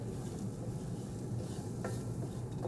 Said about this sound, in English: So this is gonna kind of create a roux to thicken the etouffee.